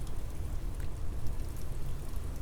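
Steady rain heard from inside a sheltered dome, a dense continuous patter and wash with low rumble, even and unbroken throughout, no voices.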